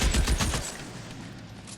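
A burst of rapid gunfire in the 1940s-set video game L.A. Noire, several loud close shots in the first half second, then fading into a low rumbling tail.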